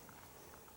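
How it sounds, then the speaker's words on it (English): Bubbling water at a natural spring on White Mound, a steady, continuous burble and patter that stays fairly close and even throughout, with no voices. "Look at that bubbling. This is just an amazing spring."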